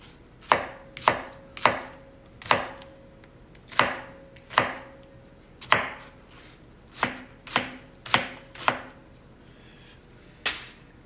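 Knife chops taco meat ingredients on a board: about fourteen sharp, separate thwacks at an uneven pace, close and clear in a quiet kitchen.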